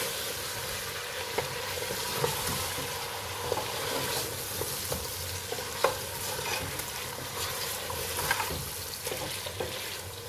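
Masala being stirred into mutton nihari in a pot, a continuous wet sizzle with scraping and occasional clicks of the spoon against the metal, steady throughout.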